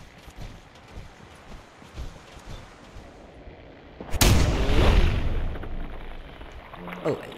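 Gunfire from a gun in the video game Fallout 4: a sudden loud burst of shots around the middle, followed by sustained rumbling blasts and a sharp crack near the end, over a busy game background.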